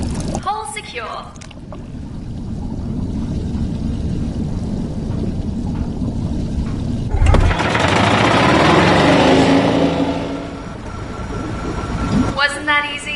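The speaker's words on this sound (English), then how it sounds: "The engine is engaged" A sci-fi escape pod engine in the video game I Expect You to Die rumbles steadily, swelling into a louder roaring surge midway before fading, with a brief synthetic voice at the start and end.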